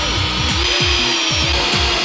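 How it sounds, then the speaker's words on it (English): A power drill boring a small pilot hole in wood for a DIY hamster cage, its motor whining steadily under a rhythmic pulsing of repeated bursts, close and fairly loud throughout. "we're going to drill a little pilot hole first"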